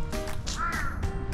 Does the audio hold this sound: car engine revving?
no